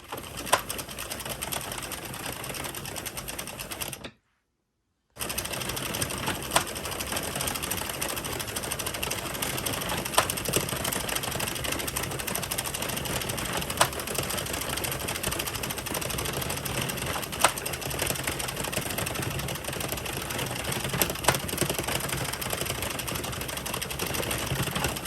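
A knitting machine cranks out rows for fingerless gloves, giving a steady, continuous mechanical whir with faint rhythmic clicks, close and alone, broken once by a short silent gap near the start.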